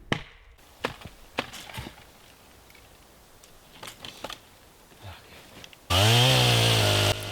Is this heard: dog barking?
no